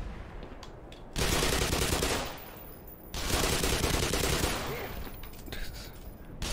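Enemy gunfire roars in Black Mesa, two long dense bursts of automatic fire with a brief lull between them, loud and close, over a quieter background of scattered shots.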